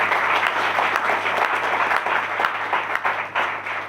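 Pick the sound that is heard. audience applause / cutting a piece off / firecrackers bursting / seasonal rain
audience applause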